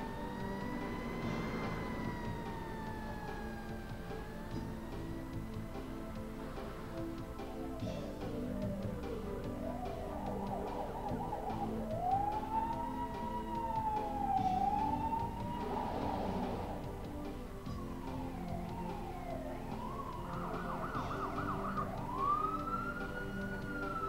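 An emergency vehicle siren wails steadily for the whole stretch, its tone sweeping up and down in repeated rising and falling cycles at a constant, fairly loud level, with no talking.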